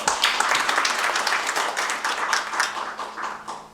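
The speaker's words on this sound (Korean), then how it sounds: "모든 분들께 박수 부탁드리겠습니다" Audience applause at a commemorative ceremony for a national welfare convention for people with intellectual and developmental disabilities: a crisp, crowded patter of many hands, loud at first and gradually thinning toward the end.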